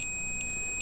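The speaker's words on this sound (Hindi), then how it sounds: "आपको बीप सुनाई दे रही होगी" A multimeter sounds its continuity-test beep while checking the coil of a DD Free Dish set-top box under repair: a steady high electronic tone with faint pulsing over a low background hum.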